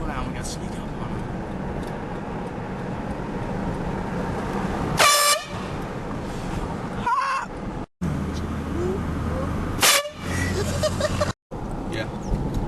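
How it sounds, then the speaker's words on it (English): An air horn on a vehicle blasts at a cyclist on the road. Two loud, brief horn blasts ring out over steady engine and road noise, each followed by an abrupt drop to silence. "so we're gonna honk a horn at him"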